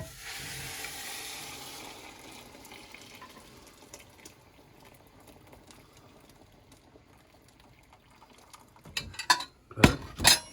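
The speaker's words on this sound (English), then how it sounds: "Now we're going to add in the broth" Broth poured into a pot of ham and cabbage chowder, a soft steady liquid stream with light sizzling, followed by a few sharp clanks of a utensil or lid against the pot.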